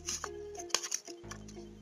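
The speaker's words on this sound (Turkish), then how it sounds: "Ben makas kullanarak yapacağım bunu." Scissors snip through folded origami paper for a rabbit model, a few short crisp cuts and rustles at close range.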